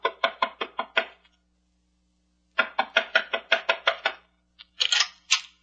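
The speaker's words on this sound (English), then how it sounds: "Knock on the door, Shannon." A sound effect of knocking on a door for a radio drama: two quick bursts of rapid, crisp knocks separated by silence, then a final louder rattling flurry, close and alone without voices.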